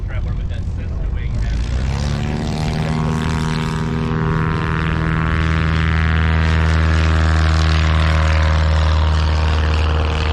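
The Badlands Traveler STOL aircraft with a Cessna wing, at a STOL competition in Gainesville, Texas, roars past close by, its propeller engine climbing to a loud sustained drone with rising then steady harmonics; no voices.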